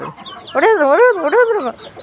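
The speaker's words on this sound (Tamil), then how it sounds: "நாட்டுக்கோழியே உள்ளே போகிறதுக்குள்ளே தொட்டு கொத்துவாங்க." Native country chickens clucking close by, a run of loud, warbling, wavering calls from the fowl in a farmyard setting, with a short pause before the main burst.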